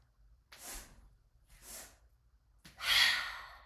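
Breath of joy yoga breathing: two quick audible sniffing inhales, then a long forceful whooshing exhale, close and breathy with no speech.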